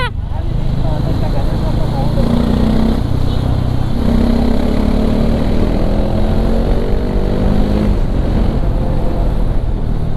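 Loud, rough motorcycle engine with its exhaust silencer removed, a steady raw drone running throughout, with rising tones that suggest a few revs.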